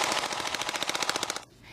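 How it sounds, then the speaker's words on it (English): Rapid burst of gunshots fired by a candidate in a political campaign commercial, a steady rattling volley of close, loud shots that stops abruptly, leaving a brief quiet tail. "the bullets you're hearing, they're being shot by Pamela Gorman throughout that commercial"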